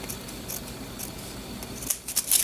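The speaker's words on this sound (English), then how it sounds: "And I'm going to come and cut this off here." Scissors snip through paper while a personal planner is being decorated with fall embellishments, a quiet trim that ends in a few brief, sharp cutting sounds close by.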